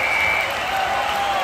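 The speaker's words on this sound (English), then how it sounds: "Listen to this crowd on their feet." Crowd cheering and applause in a Wii Sports basketball game, a steady, dense roar of cheers and clapping at constant loudness with a faint tonal whistle-like note running through it.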